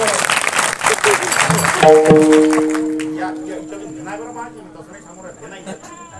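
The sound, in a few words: audience applause at a kirtan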